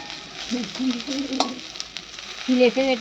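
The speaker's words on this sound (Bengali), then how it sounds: "আর আমি ওদিকে ভাজছি তো একটু ভালোভাবে ভেজে নেব" Food frying in a pan while being stirred during a home lunch cook of green banana, fish and long beans, a steady sizzle with scraping strokes, and a voice briefly vocalizing near the end.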